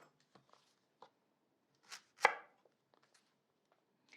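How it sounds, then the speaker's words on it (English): Knife chopping through leek roots on a cutting board, a few light taps leading to two sharper, louder cuts close by, then faint scattered clicks. "We're going to cut the roots off."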